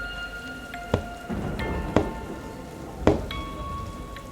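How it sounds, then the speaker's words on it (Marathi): Steady rain-and-thunder effect for a spooky tale set in a crumbling old Konkan mansion: constant rainfall with three sharp cracks spaced about a second apart, layered over faint sustained musical tones, with no speech. "पावसाचा जोर वाढत होता. बाहेर विजा कडाडत होते."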